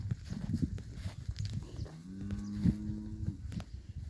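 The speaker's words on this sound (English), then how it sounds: "So the cows, they go on walks at times to go and graze." Cattle on a farm in Botswana low in a drawn-out moo near the middle, set against soft outdoor farmyard noise and scattered small knocks, moderately distant and fairly quiet overall.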